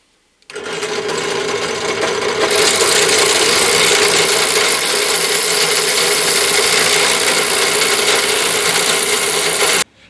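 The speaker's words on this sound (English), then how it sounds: "Just remember to let the drill do the work" A steady, high-pitched mechanical whine of a power drill boring continuously through ceramic tile, loud and close, running without pause for several seconds.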